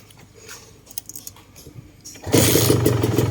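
Quiet clicks and rustling, then a stock Kawasaki KR150 SSE motorcycle engine suddenly fires up and keeps running with a loud, steady rumble.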